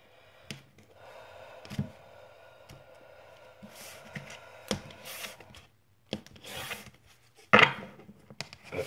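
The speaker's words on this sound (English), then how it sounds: "I'm gonna go ahead and cut the deck for one last energy." A tarot deck is cut and handled up close, giving soft card slides, rubs and a few crisp taps and snaps scattered across several seconds with quiet pauses between.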